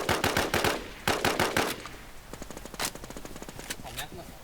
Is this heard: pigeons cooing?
no